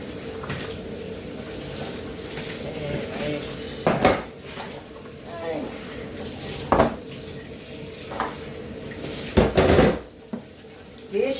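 Dishes clatter in a sink during washing: scattered sharp clinks and knocks of plates and cutlery over a low running-water hiss, some louder bangs standing out.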